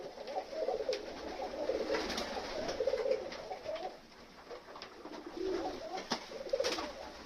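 Pigeons coo softly in a series of low calls while being fed outdoors in winter, with scattered rustling and faint ambient noise between the bursts.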